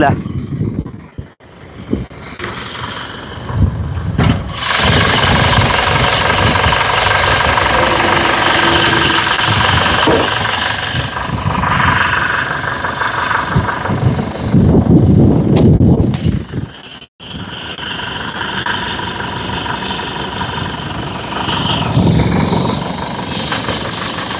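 An engine runs loudly and continuously close by, its rough rumble mixed with gusty wind buffeting and occasional voices underneath.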